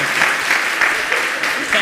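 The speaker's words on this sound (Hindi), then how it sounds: "बजाओ ताली एक बार।" An audience claps together at a Jain monk's question-and-answer discourse. The applause is steady and continuous and carries well across the hall, with a voice faintly audible underneath.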